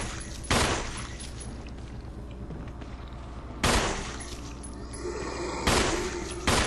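Gunshots fired at a zombie in Resident Evil HD Remaster, three loud sharp blasts spaced a few seconds apart over a steady low game ambience.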